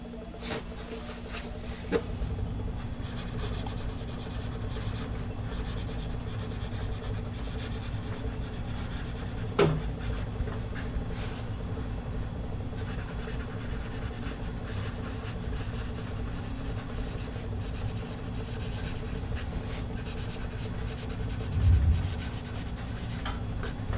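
A Palomino Blackwing 211 pencil with firm, dark graphite writing on paper, a continuous close scratching and rubbing with a few small taps, steady and fairly quiet, and no one speaking.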